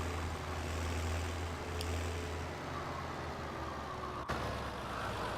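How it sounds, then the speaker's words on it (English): A farm tractor engine runs at a steady idle, a low continuous rumble heard fairly close, with a brief click partway through and no speech. "I'm going to lead with the tractor"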